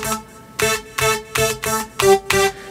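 Basic synthesizer patch with a fast attack, played through Kontakt 7, sounds as six evenly spaced short notes that start abruptly and decay quickly, clean and isolated.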